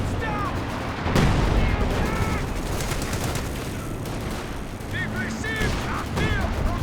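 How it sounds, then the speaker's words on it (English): A howitzer fires in Company of Heroes 2, with one heavy boom standing out amid continuous battlefield gunfire. A commentator talks throughout. "There is the Howitzer"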